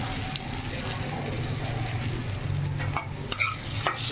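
Green chili and turmeric powder fry in a hot pan while being stirred, giving a steady, close sizzle with a few sharp utensil scrapes and clinks toward the end.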